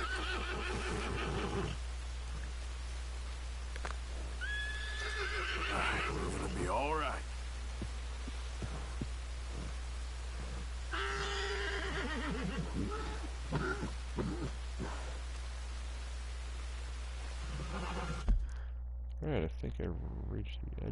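A horse in Red Dead Redemption 2 neighs and whinnies several times in bursts, with snorts and clicking noises over a steady low hum, ending in a quieter stretch.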